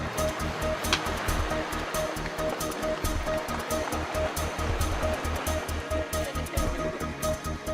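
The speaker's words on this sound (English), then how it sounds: "There's icebergs floating in the water, the sound of bubbles popping, the sound of ice grinding against itself." Antarctic icebergs float in seawater, giving a dense, close, continuous wash of crackling, popping bubbles and low grinding thumps of ice rubbing against ice, with no voices.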